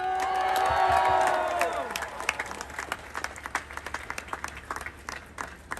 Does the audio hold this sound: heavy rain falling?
no